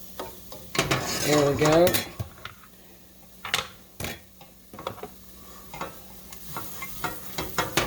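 Flour and butter cooking in a pan while a utensil scrapes and knocks against the metal in irregular bursts over a light sizzle, with a brief spoken remark near the start.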